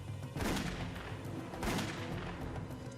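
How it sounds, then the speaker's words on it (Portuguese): Gunfire in a dramatized reenactment aboard the PSA Flight 1771 airliner: two heavy, booming blasts about a second apart, each trailing off into a dense, rumbling wash. "Depois de atirar em seu antigo chefe."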